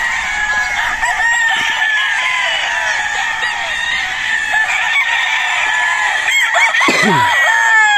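Battle stags, young fighting roosters, on a farm. They crow repeatedly and cluck, several birds overlapping close by in a continuous chorus. A strained, rising crow stands out near the end.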